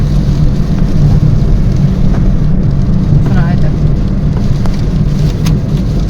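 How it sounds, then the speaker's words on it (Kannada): Heavy rain pours down in a steady, loud, unbroken wash that fills the whole stretch, dense and close throughout. "ಇಲ್ಲಿ ಮಳೆ ಬರ್ತೈತೆ ಬ್ಯಾಕ್ ಕ್ಯಾಮ್ರಾದಲ್ಲಿ ತೋರಿಸಿದ್ರೆ ಗೊತ್ತಾಗುತ್ತೆ ಸರಿಯಾಗಿ ಮಳೆ ಶುರುವಾಗೈತೆ"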